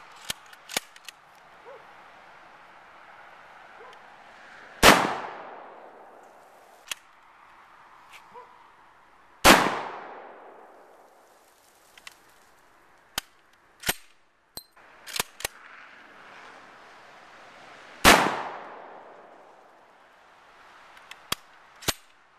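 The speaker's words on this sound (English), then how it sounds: "Now we're going to test fire the Mosin Nagant that's been converted to 45-70." Mosin Nagant rifle converted to .45-70 being test fired: three loud, sharp gunshots spaced several seconds apart, each with a decaying echo, separated by small mechanical clicks of the action.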